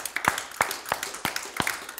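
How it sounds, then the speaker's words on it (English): A church congregation claps along in praise during a Wednesday worship service, about six sharp, evenly spaced claps forming a steady beat, close and clear. "Give the Lord a hand clap."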